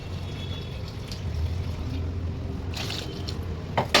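Water pours into a thin salna curry, a faint wet sloshing and trickling sound that runs quietly for a few seconds in a kitchen.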